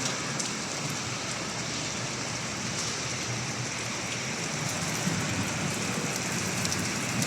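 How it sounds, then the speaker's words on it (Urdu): Heavy rain pours down in Makkah, a dense, steady roar of drops striking surfaces that fills the whole span without letting up. "اس کے بعد بارش ایکسٹریملی تیز ہے"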